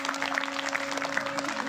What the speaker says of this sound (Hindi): ताली को बजा दें।